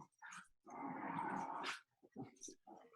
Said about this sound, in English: I'm sure you can hear my dogs playing in the background.